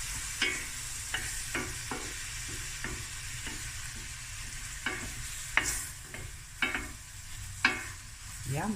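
Prawns frying in a pan until they turn pink: a steady low sizzle broken by sharp stirring scrapes and clinks of a utensil roughly every second, close and fairly quiet, with no talking.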